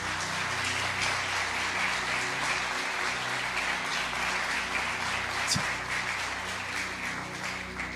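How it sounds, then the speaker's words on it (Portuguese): A church congregation claps together in steady, even applause for about eight seconds, with a continuous wash of overlapping hand claps at moderate loudness and no voices standing out above it. "Vamos aplaudir ao Senhor por isso."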